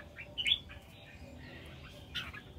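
A red-whiskered bulbul gives a few short, bright chirps over a low, steady background rumble, fairly faint and with no talk.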